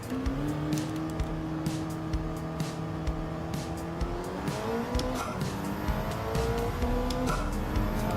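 A car in the racing game Gran Turismo 7, its engine droning in steady rising and falling tones as it shifts, with tire squeal and skidding layered over a continuous, moderately quiet background.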